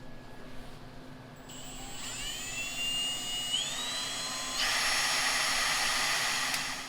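A power drill boring a vent hole, a 1/8 pilot then an 11/32 hole, in a Milwaukee 8 primary. A steady motor whine rises in pitch as it spins up and holds a loud, continuous tone.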